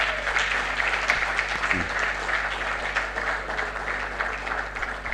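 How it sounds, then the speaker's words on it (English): Symposium attendees in a conference hall on countering organized crime in Africa clap in a sustained round of applause, even and moderately distant over a low steady hum. "Please give yourself a round of applause."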